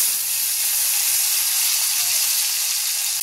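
Soaked cashews and raisins lightly frying in a pan give a steady, loud, close hiss and sizzle, continuous with no pauses.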